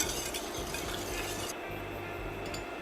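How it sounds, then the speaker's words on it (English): Grated garlic sautéing in melted butter in a pan, a soft steady sizzle with light stirring and faint utensil clinks, close and quiet. "Saute the garlic until it becomes fragrant, but don't allow the garlic to brown."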